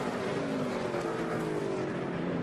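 NASCAR stock cars roar steadily around the track after a hard crash into the wall, a continuous loud engine drone with no break.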